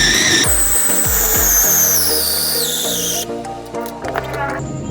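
A blender or food processor mixes chicken wonton filling with tapioca flour, whirring in high-pitched bursts that rise and shift in pitch as the motor loads and then stops, with a few clattering knocks at the end.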